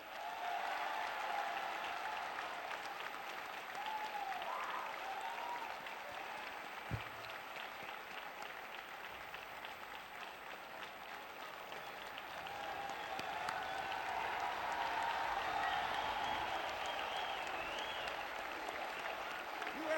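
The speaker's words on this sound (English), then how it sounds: "Let's give them a round of applause." Sustained crowd applause at a Lake Central school Veterans Day ceremony honoring veterans, steady and dense for the whole stretch, dipping slightly in the middle and swelling again toward the end, with no speech over it.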